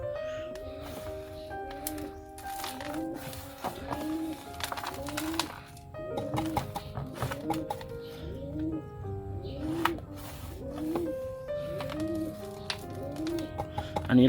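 Pigeons coo in a repeating pattern of soft, low, throaty calls, several in a row and moderately close, steady against a faint background.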